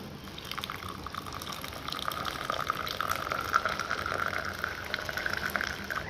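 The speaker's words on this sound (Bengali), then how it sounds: "এখন লিকারটা ঢেলে নেব।" Brewed tea liquor is poured into a cup as a soft, continuous trickling stream that lasts several seconds and grows slightly fuller, heard close and alone.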